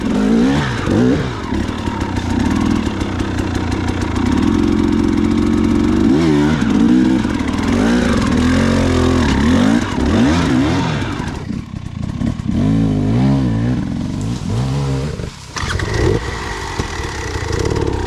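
Dirt bike engines at a motor sports park, revving and rising in pitch over and over, loud and near, with throttle blips and the drone of an idle between the bursts.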